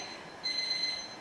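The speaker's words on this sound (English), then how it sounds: "That's my alarm. Now I'll go turn it off." Alarm going off in a home kitchen during a cooking show, a steady high-pitched electronic tone starting partway in and holding at a moderate, even level with no talking.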